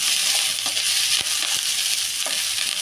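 Curry leaves go into a pan of frying onions for a bendekai (okra) palya, producing a continuous loud sizzle with a few faint ticks and clicks.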